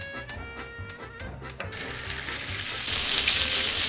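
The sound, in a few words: meatballs frying in oil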